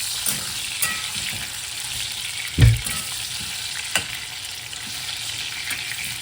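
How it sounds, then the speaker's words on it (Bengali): Potatoes sprinkled with salt fry lightly in oil with a soft, steady sizzle, punctuated by a few stirring clicks and one louder knock midway, and no talking. "খুব ভেজে আলুটা ভাজবো না, জাস্ট হালকা করে"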